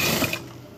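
A sewing machine stitching a chudidar top, a short burst of whirring mechanical rattle close by, fading toward the end.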